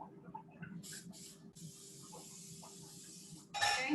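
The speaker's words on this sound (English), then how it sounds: "spray it with the canola oil" Canola oil cooking spray hisses onto a cookie sheet in a kitchen, in three bursts: two short sprays, a longer steady one, then a final loud close spray at the end, over a faint background.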